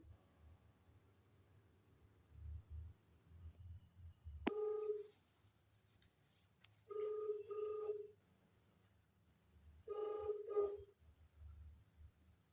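A phone call to a school superintendent rings out as three quiet, evenly spaced bursts of ringback tone over a low background hum, after a single click, with no voices.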